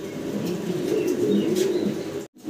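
A breeding pair of Modena pigeons with complete ten-feather plumage coos softly and steadily nearby, a low continuous murmur with faint chirps, ending in a brief gap.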